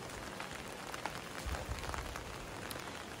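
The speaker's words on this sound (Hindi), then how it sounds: "इतनी बारिश में हम लोग आए हैं" Heavy rain pours at the Bagnath Mahadev temple in Bageshwar, a steady dense hiss of drops hitting surfaces with no voices.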